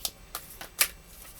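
Large Starseeds tarot cards being shuffled by hand, heard as four separate crisp flicking rustles spaced at an uneven rhythm, fairly close and moderately quiet.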